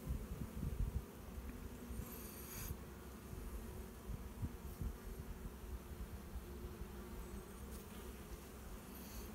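Honey bees buzz steadily around an open hive frame holding capped brood, larvae and pollen, a continuous droning hum with individual insects passing close by now and then.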